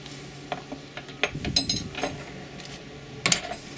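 Light clinks and rattles of metal utensils shifting in a cutlery drawer aboard a 2016 Azimut 55 S yacht, a few scattered bursts with a sharper jingle near the end.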